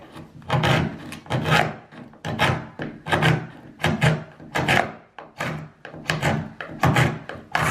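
Rhythmic rasping strokes of a tool scraping a covering off a flat wall ahead of plastering, about a dozen loud, close scrapes in a steady back-and-forth pattern with no talking.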